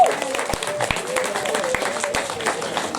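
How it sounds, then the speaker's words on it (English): An audience at a community show applauds a team, a soft continuous patter of clapping under a speaking voice, with a few sharper individual claps standing out. "give a Red City and the team a big round of applause"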